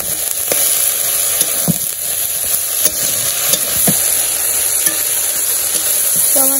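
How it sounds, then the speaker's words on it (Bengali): Vegetables being sautéed with chilli powder, turmeric and salt in a pan, a steady close sizzle with scattered scraping clicks of a spoon stirring throughout, no voices. "সবজিটা আমি কষাইতে থাকি"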